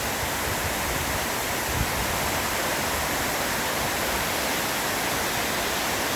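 Powerful waterfall deep in the Sierra Madre mountains, its water pouring with a dense, unbroken hiss and roar, loud and close throughout with nobody speaking.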